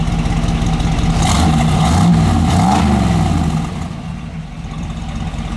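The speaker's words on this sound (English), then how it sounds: "This little C10 really barks at you." A 1967 Chevy C10 pickup with dual exhaust and side-exit chrome tips revs loudly up close, its deep engine rumble rising and falling over several seconds before settling back toward a steadier idle.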